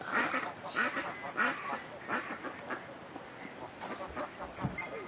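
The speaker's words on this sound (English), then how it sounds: "And then the white duck." Several ducks quack repeatedly in a loose, irregular chorus, moderately close, with no talking over them.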